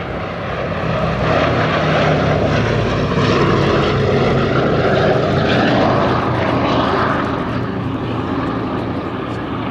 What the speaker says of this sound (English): it's actually not that big for a 4-engine plane